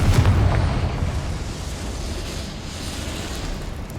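In Hogwarts Legacy, a Confringo fire spell bursts with a heavy booming explosion at the start, then settles into a sustained low rumbling roar of flames and debris that holds steady to the end.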